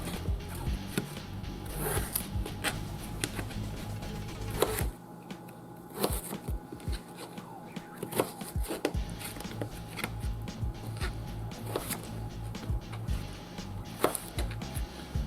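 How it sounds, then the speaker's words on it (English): A knife dicing potatoes for potato salad gives rapid, irregular sharp chopping taps, close and fairly loud, with brief pauses between bursts and no talking. "So cut them down in half, cut them down in half."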